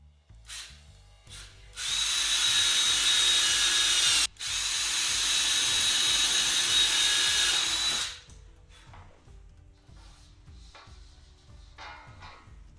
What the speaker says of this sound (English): we're going to use is a 1/8 drill bit.